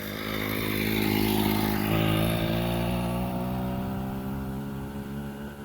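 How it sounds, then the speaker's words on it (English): A motorcycle fitted with an exhaust end cap and muffler bearings revs up steadily, then slowly winds back down; the engine note is loud and close with a rich, sustained drone and no talking. "this one's with the end cap on and the muffler bearings in"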